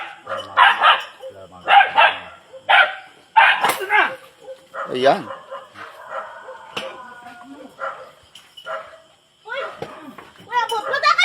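A tied-up dog barks repeatedly in short bursts, close by, mixed with excited shouting voices between and over the barks.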